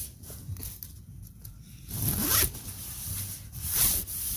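A clothing zipper is zipped in the morning, with a few quick rasping pulls close to the microphone. A longer stroke comes midway and another near the end.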